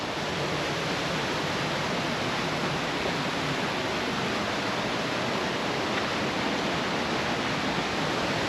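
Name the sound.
waterfall beside mountain trail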